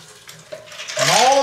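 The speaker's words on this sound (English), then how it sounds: "I want to pour it in just to make sure that our linguine is not sticking to the pan" Reserved pasta water poured from a pot into a pan of linguine with clam and wine sauce, starting as a soft trickle and swelling into a loud, steady splashing stream near the end.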